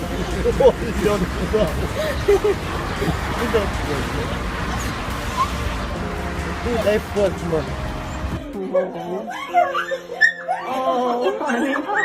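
A lost dog reunited with its owner at an animal clinic whimpers and yips in short high cries, first under traffic noise and a voice, then more clearly in a quiet room.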